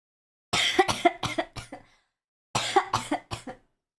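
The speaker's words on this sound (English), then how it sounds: "I was coughing." A person coughs in two close bursts of several sharp, dry coughs each, separated by a short pause, near and clear with no other sound.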